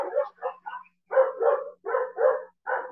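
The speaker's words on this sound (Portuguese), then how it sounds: "O cachorro está latindo." A dog barks nearby in several quick bursts of two or three woofs each, separated by short silences, loud and clear with nothing else audible.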